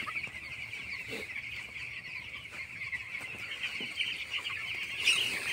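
Broiler chickens in a poultry farm shed in winter keep up continuous soft clucking and chirping from many birds, a steady nearby chorus with a louder squawk near the end.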